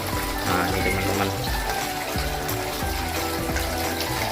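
Water pours steadily and continuously into a tilapia fish tank, a full, splashing rush with a low gurgling rumble and no pauses.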